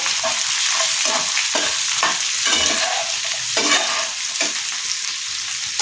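Chopped garlic, ginger and green chilies sauté in a pan for a Kerala fish curry, with a constant close sizzle broken by rhythmic scraping stirs of a spoon, and no voices.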